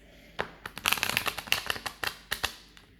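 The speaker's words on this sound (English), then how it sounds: "These cards are not easy to shuffle." Oversized playing cards are shuffled up close: a quick series of crisp riffling snaps and flutters, irregular in rhythm, with no voices.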